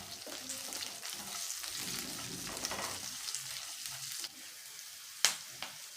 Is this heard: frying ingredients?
yes